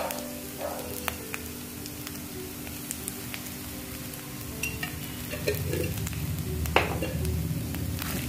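Coriander seeds, chillies, urad dal, grated coconut and shallots roasting in coconut oil in a pan for chammanthi, a steady close sizzle with occasional stirring scrapes and clinks, no voices.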